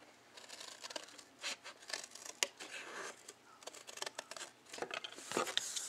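Scissors snip through chipboard at an angle in a quiet room, a run of soft, irregular crisp cuts and rustles, close and fairly faint, with brief pauses between strokes.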